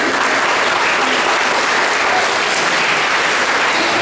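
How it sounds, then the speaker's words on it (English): At a fundraiser, a large audience gives a round of applause in loud, dense, continuous clapping that holds evenly throughout. "Can you give a round of applause for Mrs. Lee?"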